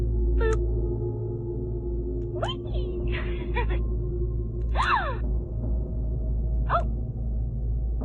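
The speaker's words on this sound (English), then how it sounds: "Like a gasping sound." A doll toy makes short gasping sounds when its button is pressed, several separate breathy gasps spaced a second or two apart over a steady low hum, close and fairly clear.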